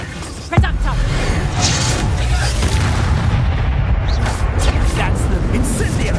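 A Reductor spell blast in Hogwarts Legacy erupts with a sharp boom near the start, then a dense rumbling, crackling wash of game combat noise sustains loudly under speech.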